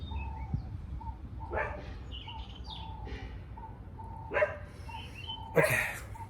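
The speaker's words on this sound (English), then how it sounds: "a dog is barking" A dog barks several times at a distance, in short separate bursts spread across a few seconds, with bird chirps and a low background hum underneath.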